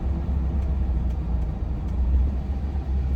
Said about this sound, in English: Nice and easy, real easy braking.